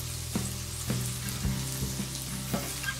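Food sizzles steadily in a pan set on a charcoal grill, a continuous frying crackle with a few soft clinks and stirring knocks at irregular intervals, close and moderately loud with no talking.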